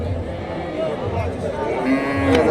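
A local-breed cow lows amid a noisy crowd at the Dakumara cattle market in Bogura, Bangladesh, with chatter and background murmur throughout.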